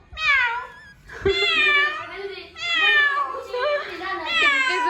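A person imitates a cat, giving four drawn-out, wavering meows one after another, loud and close.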